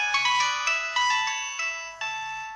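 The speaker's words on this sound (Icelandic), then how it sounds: "þetta er leiðinlegasti hringitónn sem þú heyrir í dag" A default mobile phone ringtone plays alone, loud and close: a bright electronic chiming melody that repeats in three short phrases.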